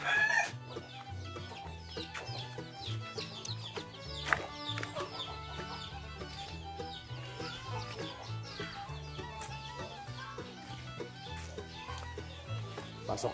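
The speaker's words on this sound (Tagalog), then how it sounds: "Ituturo ko kayo dito sa munting manukan natin." Chickens cluck and call inside a small free-range coop, a busy steady chatter of hens with a rooster-like call mixed in, close and continuous under other farmyard noise.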